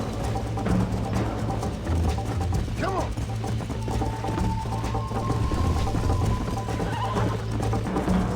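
Horse whinnying in Red Dead Redemption, a short neigh set within a busy game soundscape of hoofbeats, low rumble and mechanical clicks, moderately faint and steady throughout.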